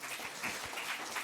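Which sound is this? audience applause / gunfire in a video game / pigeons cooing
audience applause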